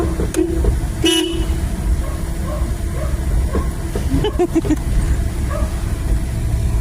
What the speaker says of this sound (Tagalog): huwag ka panay busina